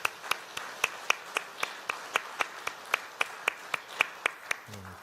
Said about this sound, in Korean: 우리를 쉼으로 초청해 주신 주님께 우리 감사의 박수 한번 드릴까요?